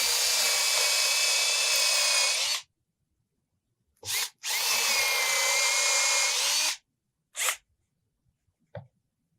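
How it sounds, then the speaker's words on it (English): A power drill with a 1/4 inch bit whines loudly in two long bursts of a few seconds each, pre-drilling holes in a wall for awning lag bolts, with short blips of the motor between and after. "And then you're going to pre-drill it."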